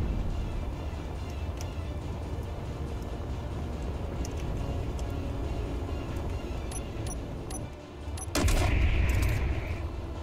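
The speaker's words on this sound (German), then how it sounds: "Das sind unsere, die schießen." Gunfire in the video game Space Engineers, dense rapid shots rattling continuously under a rumbling engine-like drone, then a sudden louder burst near the end.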